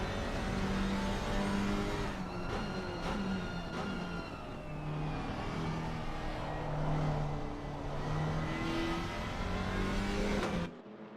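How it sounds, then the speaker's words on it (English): An Alpine GT4 race car engine drones and revs continuously at the Nürburgring, with rising and falling tones from other cars layered in and a steady, loud roar throughout before a sudden drop at the end. "All these GT4 cars are basically high-powered road cars. But it sounds like a barking dog."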